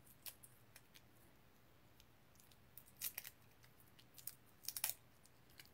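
Scissors cutting a paper card piece for a box fold card, faint scattered snips and crisp paper crunches, a few clustered cuts, quiet and close with no talk.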